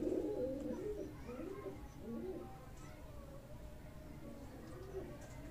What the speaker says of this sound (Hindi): ये अब अच्छे परिंदे हैं जी, अच्छे ब्रीडर परिंदे हैं